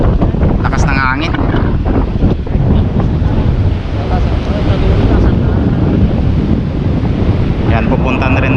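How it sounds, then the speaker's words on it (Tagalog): Strong coastal wind roars over the microphone by a surfing sea, a loud continuous rush with surf beneath, while a voice talks briefly in the middle of it. "Lakas ng hangin."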